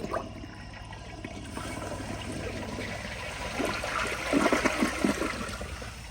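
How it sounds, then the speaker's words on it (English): A 2004 Kohler Highline Ingenium toilet flushes with a steady rushing wash of water that swells into a louder gurgling surge near the end, close and alone. "So here's a flush"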